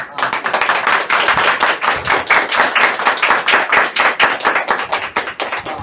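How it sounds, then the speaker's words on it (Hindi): Audience clapping in a Hindi-speaking gathering at a herbal store event, a steady, fairly loud run of individual hand claps with a quick irregular rhythm, filling the whole stretch without pause. "दिल से ताली बज रहे हैं।"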